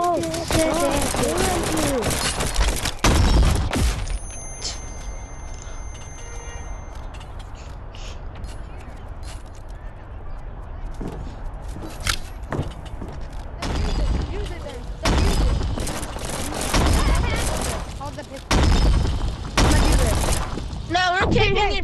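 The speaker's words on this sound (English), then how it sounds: "Go break the crystals." Crystals shattering and gunfire in the Animal Company VR game arena mode, loud bursts of breaking and shots at the start and again later, with players talking throughout.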